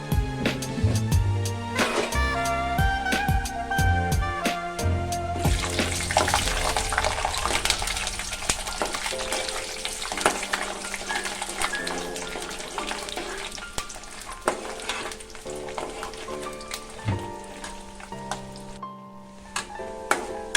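Chana dal and urad dal sizzling in hot oil in a pan, a continuous bright crackle and hiss with scattered pops and faint stirring, close and steady throughout.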